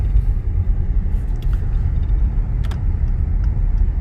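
An Acura TLX A-Spec SH-AWD drives along a snow-covered road, heard from inside as a steady low road rumble and engine drone with faint interior clicks.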